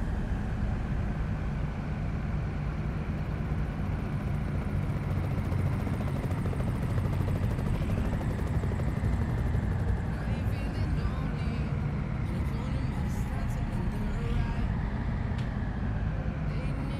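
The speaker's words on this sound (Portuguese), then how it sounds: "Tem até um helicóptero aí." In Euro Truck Simulator 2, a helicopter drones overhead: a steady, loud low rotor-and-engine rumble that fills the whole stretch, mixed with road and truck noise and no break.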